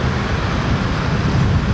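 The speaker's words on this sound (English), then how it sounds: "how many times have you been on traffic and you heard this?" Steady roadway traffic noise fills the whole stretch, a dense, continuous low rumble of passing cars and heavier vehicles with no breaks and no voices.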